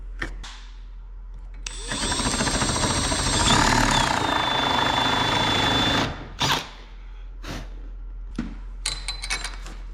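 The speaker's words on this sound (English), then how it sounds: "I'm going to take a drill bit and try to kind of grind that down" A drill bit whines steadily for several seconds, close up, grinding down plastic with a rough edge, then stops, followed by a few scattered clicks and handling sounds.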